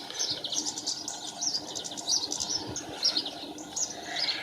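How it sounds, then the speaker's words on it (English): Greenfinches call around garden bird feeders, giving steady high chirps and twittering notes close by and fairly loud, repeated through the whole stretch with no talking. "More greenfinches, that's good."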